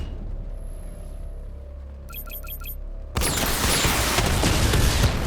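Batmobile missile barrage in Batman Arkham Knight: after a low vehicle hum and a quick series of electronic targeting beeps, a loud broadband roar of launches and blasts erupts and holds steady to the end.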